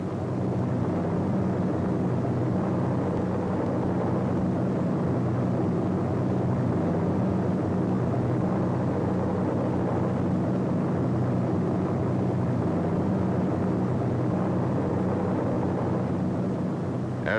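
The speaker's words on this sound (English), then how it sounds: "As these gliders and their tow planes head into France, C-47s, which already have dropped their gliders, pass on their way back to England." Continuous droning of C-47 tow planes and their gliders flying toward France during the D-Day operations of June 1944, a steady unbroken roar of piston aircraft engines at moderate distance throughout.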